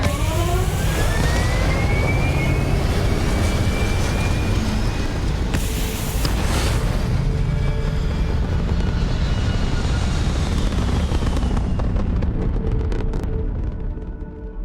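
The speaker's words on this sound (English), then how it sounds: "All thrusters firing." Spaceship thrusters firing in Starfield, a loud, steady roar with a rising whine and a brief burst near the middle, holding strong before tapering off at the end with no talking.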